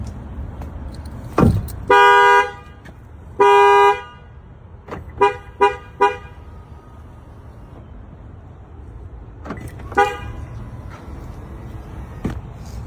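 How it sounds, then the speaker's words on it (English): A plug-and-play alarm on a Toyota Tundra beeps when the truck is touched: two long, loud tones, then three quick short beeps, and one more beep later, all over a low background rumble. "If you touch it a little bit, it's going to beep 3 times."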